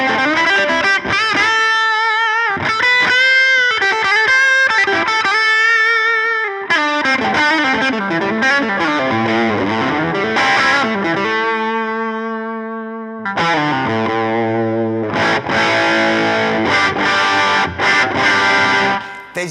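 A crunchy electric guitar through a J Rockett Archer overdrive pedal, treble centred and gain lowered, plays continuous riffs and held notes, thick and saturated with a touch of echo, loud and close throughout.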